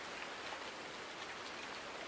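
Steady rain pours in a farming simulator game, an even, dense hiss of falling drops with no talk over it.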